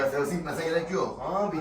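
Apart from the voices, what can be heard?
No everyday noise stands out behind the speech.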